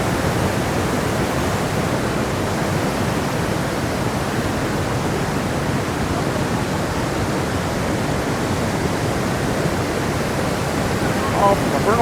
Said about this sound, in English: The volume of water flowing downstream.